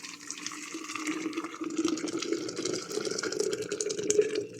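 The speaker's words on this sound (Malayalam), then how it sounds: "ഈ തിളച്ച് വെക്കണ വെള്ളം ഇതിൽ ഇങ്ങനെ ഒഴിക്കുക" Boiled water is poured into a glass holding gahwa powder, a soft close trickle and gurgle of liquid that runs steadily for a few seconds with no voices.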